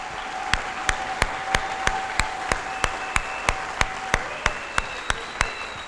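A church congregation claps in a steady, even rhythm, sharp repeated claps about three per second, moderately close and fairly loud, with a faint sustained tone underneath.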